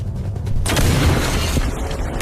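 A sudden booming explosion during a war-film gunfight with terrorists bursts in after a short lead-in, then rolls on as a sustained, loud crackling roar.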